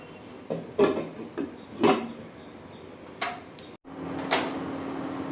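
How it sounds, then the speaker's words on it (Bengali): Mixing Bengali mustard-pointed-gourd curry in a pan, then covering it with a lid: several sharp scraping clatters of a spoon against metal, ending in a clanking lid set down, close and clear. "এবার এটাকে খুব ভালো করে মিশিয়ে নিয়ে আমি ঢাকা দিয়ে দেব"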